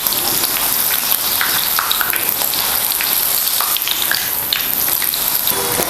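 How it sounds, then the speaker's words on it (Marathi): Green chillies, broken into pieces, fry in hot oil for vada pav, giving a loud, steady crackling sizzle that runs unbroken throughout, with no talking. "बघा आता मिरची सुद्धा चांगलं असं तळलेली आहे."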